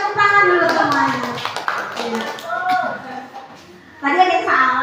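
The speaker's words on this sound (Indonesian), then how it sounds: "Oke, tepuk tangan dulu semuanya." In a school classroom a group claps hands in scattered bursts, mixed with lively children's voices talking and chanting throughout.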